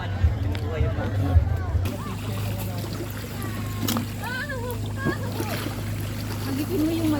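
A boat motor turns over and settles into a steady low hum, with water splashing and people chattering nearby.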